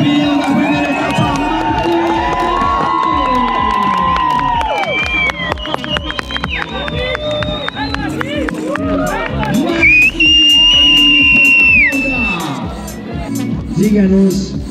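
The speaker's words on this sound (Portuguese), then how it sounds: "quero ouvir o agito da galera, essa galera agita muito pra receber os aplausos da galera" A lively crowd at an elite cross-country mountain bike race in Brazil cheers and shouts continuously, with whistles and a loud amplified announcer's voice over the din.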